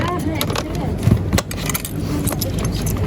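Keys jangle in a close, bright, metallic rattle with repeated quick clinks, heard over a steady background hum.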